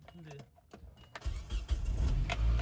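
Car engine started with a key: a few clicks and rustles, then the motor cranks and catches into a loud, rumbling idle up close, with people talking around it.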